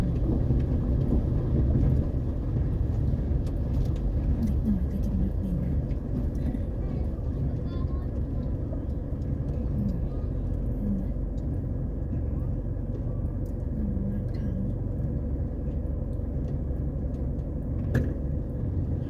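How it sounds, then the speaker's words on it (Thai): Cars drive through floodwater covering a wide stretch of the Ban Duea–Ban Chan road in Pho Si Suwan district, a steady low rumble of engines and churning water that carries on without a break. "รถมาเล่นน้ำกัน ไม่ค่อยเห็นบรรยากาศแบบนี้นะครับ"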